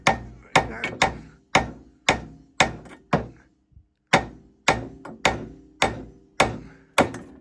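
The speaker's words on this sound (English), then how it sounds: "you want to hammer on this one and that one, hammer down, and that should release the spindle" Hammer blows on a Ford EA-EL front suspension spindle assembly to knock it loose, a dozen sharp, loud, close strikes in a steady rhythm with a short gap midway, no talking.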